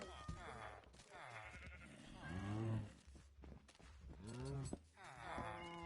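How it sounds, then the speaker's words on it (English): Minecraft cows in a Bedrock Edition hardcore survival world give several moos and bleat-like calls, with louder calls around the middle and again near the end, set under a steady, close speaking voice. "my cows are all growing up, which is great."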